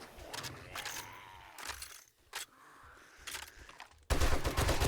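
An M60 machine gun fires in a video game, with short crackling bursts of gunfire followed by a loud, sustained burst of rapid shots at the end.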